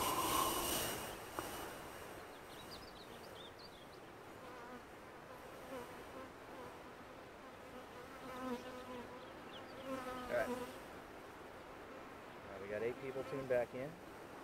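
A low, droning buzz of bees hums steadily throughout, fairly faint, with a voice speaking intermittently over it.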